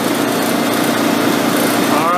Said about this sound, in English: The engine slowed down.